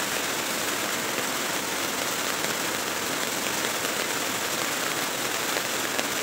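Steady rain falls continuously as a dense, even hiss, with no pauses or voices.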